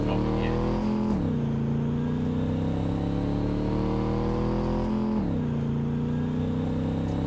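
Stock Mackinaw vehicle engine drones steadily while climbing a hill slowly off-road, a loud, continuous rumble that briefly revs and dips in pitch twice before settling back to a constant strain.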